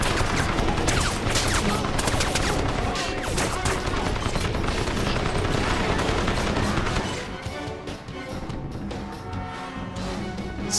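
Sustained, dense gunfire in the Crysis video game, with rapid overlapping shots and impacts forming a loud continuous barrage that thins slightly toward the end.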